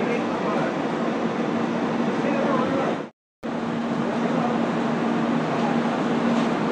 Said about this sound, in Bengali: ওইটা দুন এক্সপ্রেস ছেড়ে বেরিয়ে যাচ্ছে।